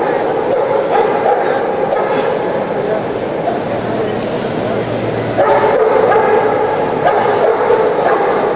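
Trained police or military dogs bark and yip during obedience and protection training exercises in Mexico, with steady barking, some whimpering and crowd noise under continuous talk.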